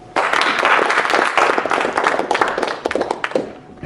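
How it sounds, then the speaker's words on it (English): A burst of applause from a modest crowd, uneven claps close by that thin out toward the end. "Please join me in a round of applause."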